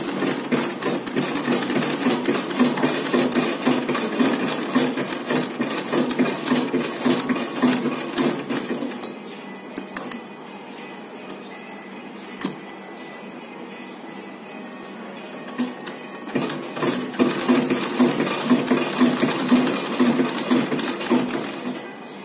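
Sewing machine stitching a thin strip of fine fabric onto a net scarf, a steady close mechanical whirr with rapid stitch ticks that runs, drops to a lighter hum midway, then speeds up again.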